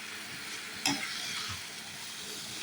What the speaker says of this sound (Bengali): ততক্ষণ পর্যন্ত আমি কচুটার সাথে মশলাটা ভাজতে থাকি